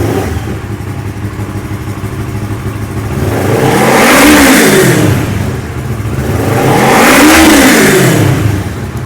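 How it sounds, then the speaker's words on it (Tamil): A used Kawasaki motorcycle engine idles loudly up close, then is revved twice in long, rising-and-falling surges. "கண்டிப்பாக வண்டி ஸ்டார்ட் பண்ணும்போது இது வேறு லெவலில் ஒரு பவர் இன்ஜின் நம்ம காட்டுது"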